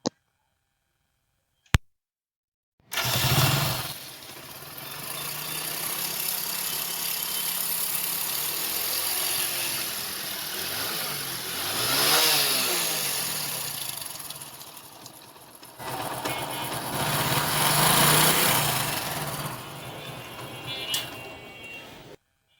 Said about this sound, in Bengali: ইঞ্জিনটা স্টার্ট করলে এখান থেকে থ্যার থ্যার করে একটা সাউন্ড করতেছে